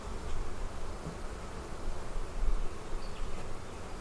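Honey bees buzzing around an open hive during a farm yard inspection, a dense, steady droning hum at moderate volume with faint outdoor background and no speech.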